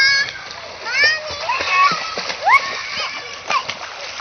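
Children jump and swim in a clubhouse swimming pool, splashing repeatedly in bursts up close, while kids' voices chatter and call out over the water throughout.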